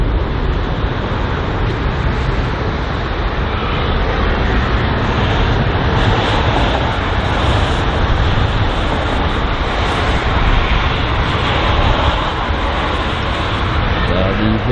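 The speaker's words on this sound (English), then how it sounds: "The aircraft that's just departed that we were just looking at there was the American Airlines Boeing 777." An American Airlines Boeing 777 departing London Heathrow produces a loud, steady roar of jet engines that holds throughout, with someone talking over it.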